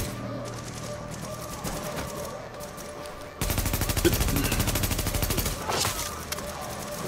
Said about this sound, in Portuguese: Tô levando tiro de algum lugar